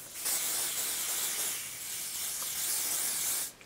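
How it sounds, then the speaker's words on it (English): Olive oil super hold spray hisses in one steady, close burst of about three seconds onto a synthetic wig, with no talking. "So I'm using the olive oil super hold spray"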